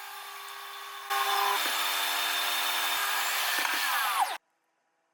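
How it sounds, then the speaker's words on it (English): Power saw ripping strips of weathered wood, a loud continuous close-up whine that bites into the board for about three seconds, then cuts off abruptly into silence. "I ripped the weather grooves off first and then ripped the strips to the width of the knife blocks."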